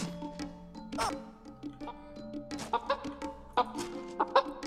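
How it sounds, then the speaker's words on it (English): Chicken clucking in the Rayon Riddles video game, a series of sharp, choppy clucks over a tonal music backdrop, fairly quiet and with no talking. "can we kill the chicken?"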